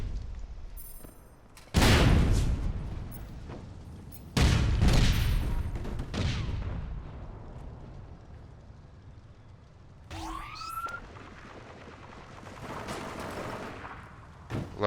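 Gunfire and grenade blasts from the online shooter APB Reloaded: two heavy booming bursts of shots and explosions, then quieter scattered fire and a short whistling streak, all at close range with no talk.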